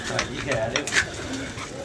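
Pigeons coo in short soft bursts close by, while people talk over them through the whole stretch.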